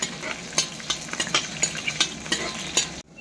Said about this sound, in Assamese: এতিয়া পিঁয়াজ জলকীয়াটো আগতে ভাজি কৰি লওঁ